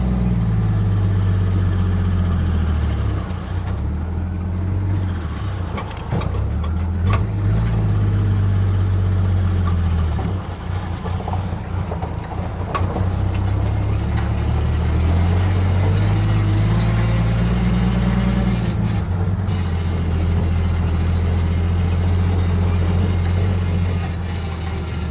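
A pickup truck engine runs steadily up close, a deep continuous rumble with a few brief revs along the way.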